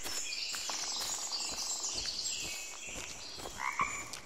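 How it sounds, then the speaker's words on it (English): A woodpecker taps in the dark woods of the Blair Witch video game, its rapid knocking mixed with croaking, frog-like calls and scattered bird chirps over a steady forest hiss, with no talking. "I hear a woodpecker in my ears."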